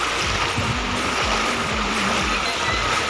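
A strong river current rushes at Lawasan River in Norzagaray, Bulacan, making a loud, steady wash of water. Low surges pulse under it, with no talk.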